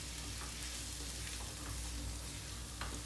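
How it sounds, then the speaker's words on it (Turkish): Carrots sauté in a pan for a vegan olive-oil celery dish, giving a steady soft sizzle and fry hiss with occasional stirring scrapes, quiet and continuous with no talk. "havucu atıyorum içine. Havucu da çevireceğim."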